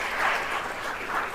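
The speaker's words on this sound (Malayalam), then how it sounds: "കൈയടിച്ച് കർത്താവിനെ മാത്രപ്പെടുത്തുക" A church congregation claps hands in praise at a Malayalam prayer retreat, a broad continuous wash of many hands, slightly distant and fairly even.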